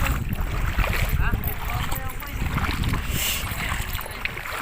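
Boats bob on water at a boat terminal in Santa Rosa, Laguna, Philippines, with wind buffeting the microphone, low sloshing and knocking sounds mixed with gusty noise throughout.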